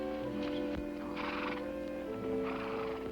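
Horses whinny with bright, harmonic neighs over steady hoof clip-clops, with several animals heard close by throughout.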